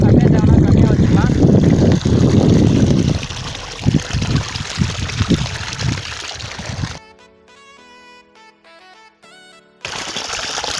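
Water gushes from the outlet pipe of a 2 HP submersible solar borewell pump in a loud, steady rushing flow that cuts out briefly while music plays, then returns.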